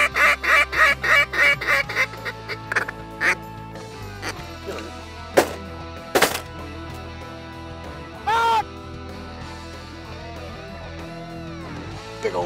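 Waterfowl call on Catahoula Lake during a guided duck hunt, a rapid series of loud honking calls at the start followed by scattered louder single calls over a steady low background.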